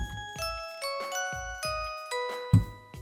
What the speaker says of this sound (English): the second one was the bells